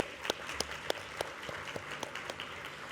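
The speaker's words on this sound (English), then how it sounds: "Please give him a round of applause as he leaves." A ministerial meeting audience on climate action in tourism applauds a departing president with faint, scattered claps, a few sharper hits standing out over a thin, distant patter.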